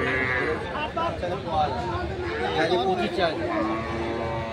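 A dairy cow of a local breed with her calf lows loudly and at length at a busy rural cattle market, with people talking close by throughout.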